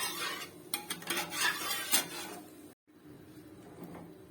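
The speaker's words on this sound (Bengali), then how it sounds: "চিনিটা দিয়েও একটু নাড়াচাড়া করে নেব।" Fried spices and sugar stirred in a pan, with a spoon scraping and clinking in short irregular strokes, a brief silent gap, then quieter stirring.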